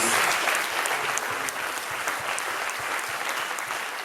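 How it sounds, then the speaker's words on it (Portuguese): Church congregation applauding during a worship service, a steady dense wash of many hands clapping throughout, fairly loud and continuous with no clear talk on top. "Dê uma salva de palmas ao nosso Senhor Jesus."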